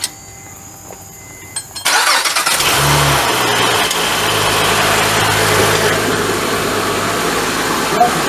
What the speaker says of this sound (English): Now you gotta start the car.